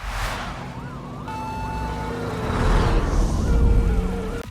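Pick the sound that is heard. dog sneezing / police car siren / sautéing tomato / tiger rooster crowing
police car siren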